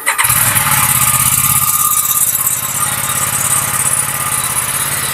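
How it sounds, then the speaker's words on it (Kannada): An Aprilia RS457 motorcycle with its stock exhaust cranks and fires up, then settles into a loud, steady, close-up idle with a rhythmic low throb and no talking. "ಇದರ ಎಕ್ಸಾಸ್ಟ್ ಕೇಳಿಸ್ಕೊಳ್ಳೋಣ ಒಂದ್ಸಲ."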